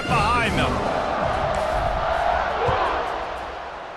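Stadium crowd in a College Football 26 game roaring and cheering before a kickoff, a broad loud wash of voices that swells early and slowly fades, with no commentary over it.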